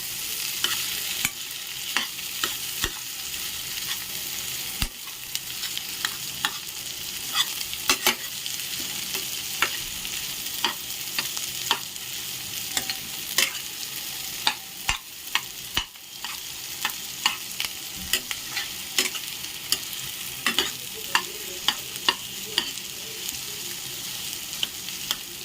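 Potato samosa filling with fresh coriander gets stirred in a hot frying pan, with frequent clicks and scrapes of the spoon over a low, steady sizzle that carries on throughout.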